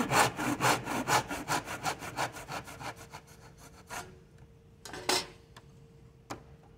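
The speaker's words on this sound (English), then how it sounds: "And now I'm gonna cut right down to that inch mark all the way through." A hand saw cuts down through a 7 3/4-inch wooden board to an inch mark, giving a steady run of rasping back-and-forth strokes that fade out, followed by a couple of isolated knocks.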